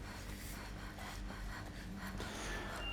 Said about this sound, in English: Why are you breathing so loud?